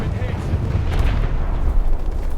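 A large bomb blast dropped by a TU-95 bomber in a tank battle game, a dense, sustained low rumble with heavy booming energy lasting throughout, loud and close, with muffled gunfire-like crackle mixed in.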